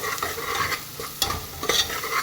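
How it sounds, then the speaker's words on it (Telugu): Freshly pounded ginger-garlic paste and turmeric frying in a pan for a pressure-cooker mutton curry, a steady close sizzle broken by a few sharp scrapes of stirring. "ఈ పచ్చి పలసన పోయే వరకు వేయించుకోవాలి."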